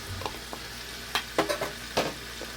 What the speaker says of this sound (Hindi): तो इसको थोड़ा फ्राई होने देते हैं